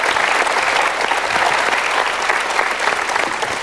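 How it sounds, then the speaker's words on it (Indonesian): Loud, continuous applause from a seminar audience in an Indonesian talk-show hall, welcoming two people onto the stage, dense and even throughout. "Kita berikan tepuk tangan untuk 2 orang ini"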